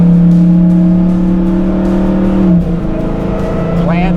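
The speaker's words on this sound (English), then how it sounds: "what a great sound that exhaust makes" Deep, loud exhaust roar of a 2023 Dodge Challenger SRT Hellcat Jailbreak holding a steady pitch, then dipping and rising as it accelerates, with a brief higher whine near the end.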